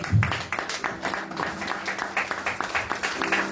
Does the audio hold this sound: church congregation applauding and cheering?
yes